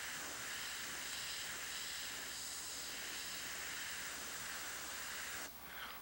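Airbrush spraying paint onto canvas, a soft continuous airy hiss that stays steady and faint, then drops briefly near the end.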